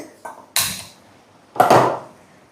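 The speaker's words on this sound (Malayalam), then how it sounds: "നമ്മുടെ ചട്ടി അടുപ്പത്ത് കയറ്റിയിട്ടുണ്ട്." A cooking pot set down on a stove in a home kitchen while preparing an Onam sadhya, heard as a couple of close, sharp metallic clunks separated by a brief pause, with no talk.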